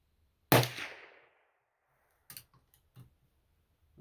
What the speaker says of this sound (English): So that's 5 shots with a 25-20 single shot.